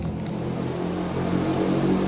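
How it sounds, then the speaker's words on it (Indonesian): Road traffic goes by as a continuous low engine rumble and broadband hiss that swells slightly, a car moving past at moderate distance with no clear talk. "ini berbenturan dengan suara kendaraan yang ada di depan nih kak"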